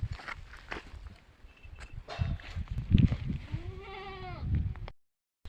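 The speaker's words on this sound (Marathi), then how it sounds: "शेळ्या देखील आहेत भावांनो शेळ्या देखील तुम्हाला दाखवतो" Goats bleat several times nearby with a wavering, nasal cry, amid shuffling steps and farmyard movement; no talking.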